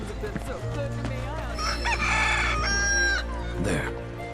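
Hens in the video game Final Fantasy VII Rebirth cluck, and a rooster crows loudly nearby over a low steady hum, with a brief burst of clucking toward the end.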